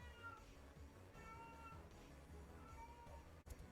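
A pet cat meows repeatedly, fairly close, its cries rising over steady background game music with no talking.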